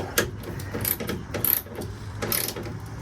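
A ratchet tightening the tail light screws on a second-generation Toyota Tacoma, giving several short bursts of close, quick clicking clatter with brief pauses between them.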